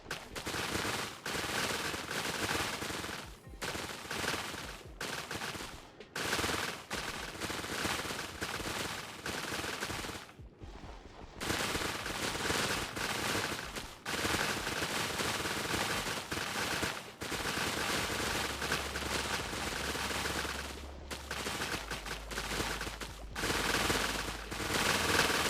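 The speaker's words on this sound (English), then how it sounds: "This is kelp destroying ASMR right here" Rapid, dense bursts of block-breaking crackle as kelp is destroyed underwater in hardcore Minecraft, loud and continuous with brief gaps between runs of hits.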